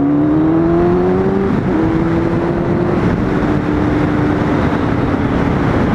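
Motorcycle pulling away through traffic after lane splitting, its engine note climbing steadily in pitch with a gear-like dip partway through, loud and close over road noise.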